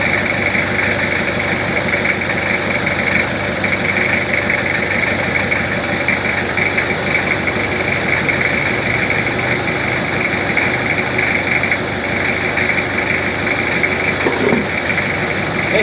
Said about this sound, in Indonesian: Ini posisi mesin belum panas ya, jadi baru saja dinyalakan.